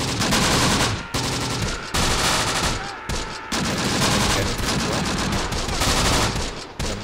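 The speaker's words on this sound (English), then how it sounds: "A mortar coming in, or maybe a rifle coming in." Rifle or mortar fire in the WWII strategy game Close Combat: The Bloody First, a dense, loud barrage of overlapping shots and blasts with two brief lulls, filling the whole stretch.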